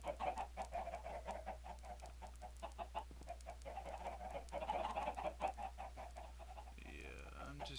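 Chickens in a Minecraft automatic chicken farm and grinder cluck steadily and repeatedly at a moderate distance, a busy flock of game sounds with no talking.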